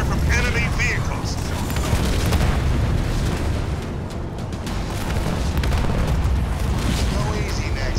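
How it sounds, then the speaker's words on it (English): Enemy vehicle fire in the Halo Wars 2 real-time strategy game produces continuous loud booms and explosions layered densely over a battle soundscape throughout, with game voices speaking over the din. "I'm under fire from enemy vehicles."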